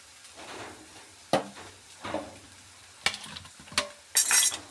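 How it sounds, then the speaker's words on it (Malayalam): Fish frying in a pan in a home kitchen, a steady close sizzle broken by several sharp clinks and scrapes of a utensil against the pan. "അപ്പോൾ നമ്മുടെ മീൻ ഫ്രൈ റെഡി ആയിട്ടുണ്ട് അതൊന്ന് ഓഫാക്കാം"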